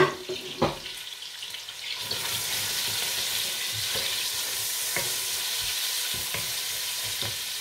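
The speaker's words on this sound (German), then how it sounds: "Ein bisschen braten lassen." Portuguese rancho chickpea stew fries in a pan, a steady soft sizzle with occasional clicks and knocks of stirring, fairly quiet throughout.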